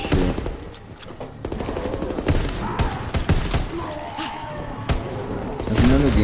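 Rapid gunfire bursts and sharp shots from Call of Duty WW2 Zombies, with dense repeated cracks and thuds over steady game sound, loud throughout with some talk mixed in.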